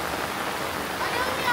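Steady rain falls outdoors in a soft, continuous hiss, with faint voices in the background.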